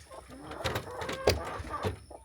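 Chickens cluck close by in a quick run of short, throaty calls, with some rustling in the background.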